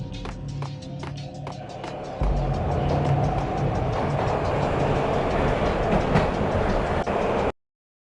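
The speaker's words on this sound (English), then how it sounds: "This was my second train ride of the night." Train ride in the video game Max Payne: a loud, close rumbling rail roar with rattling carriage clatter and metallic clicks that swells midway, holds steady, then cuts off abruptly.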